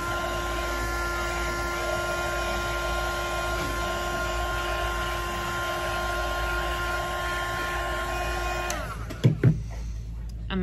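A heat gun blows a steady, loud stream of hot air onto a vinyl decal on a glitter tumbler, with a constant whirring roar and hum that cuts off near the end, followed by a couple of brief knocks.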